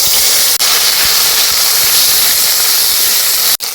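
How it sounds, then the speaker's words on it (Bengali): Curry leaves and ginger-garlic paste hit hot oil in a pan, producing a loud, steady, hissing sizzle that runs throughout with two very brief dropouts. No voices. "কড়াইতে দিয়ে দেব তেল অল্প একটু কারি পাতা এখানে নিয়েছি আদা রসুন বাটা"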